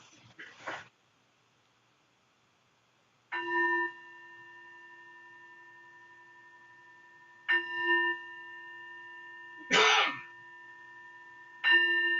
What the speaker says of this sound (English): Listen, listen. The sound of the bell calls me back to my true home.